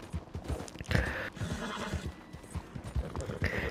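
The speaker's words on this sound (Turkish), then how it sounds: "John'un kendi atı bu sanırım" A horse from the video game Red Dead Redemption 2 gives two loud whinnies while its hooves clip-clop in a steady walking rhythm close by, with no speech.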